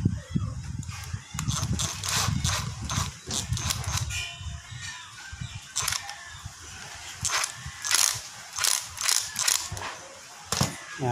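Screwing a gasoline floater into the fuel tank of a Kawasaki Fury motorcycle, with repeated close metallic clicks, scrapes and ratcheting turns in irregular bursts, while someone talks between them.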